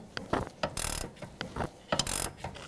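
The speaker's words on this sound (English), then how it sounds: "I'm using a ratchet wrench, just easier." Ratchet wrench turning a 17mm sway bar link nut on a 2007-2012 Nissan Altima, several rapid clicking bursts in a rhythmic back-and-forth pattern, close and clear with no talking.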